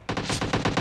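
Rapid machine gun fire from a video game shooter, a dense burst of about six rhythmic shots rolling together, loud and close with no talking over it.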